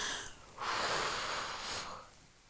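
A single sharp, breathy inhale through the nose during a Pilates abdominal exercise, close and loud, lasting just over a second before fading. No talking.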